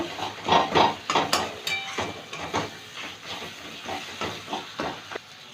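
Spices sizzle and hiss in a pan for an egg and bottle gourd dish, with pulsing bursts of frying and occasional scraping stirs, close and without talk.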